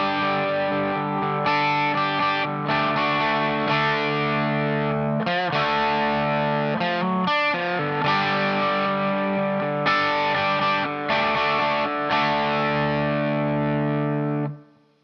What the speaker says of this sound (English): the song kicks off with this intro that is played just sort of freely before we go into the main groove